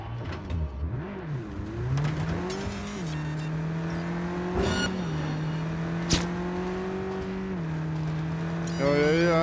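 A car engine in Cyberpunk 2077 drones and revs as the vehicle speeds away from police through Night City, its pitch rising and settling with a brief crash-like bang midway; loud and continuous.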